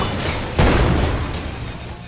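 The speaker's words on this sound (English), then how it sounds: "The sticky bomb will detonate." A sticky bomb detonates in the Sonic Infinity Engine video game, one loud, close boom about halfway through that rumbles on under a steady layer of game noise.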